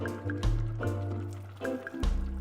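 Boiling water is poured into a pot of chopped sweet potatoes and carrots, giving short wet drips and splashes with a low, steady liquid fill beneath.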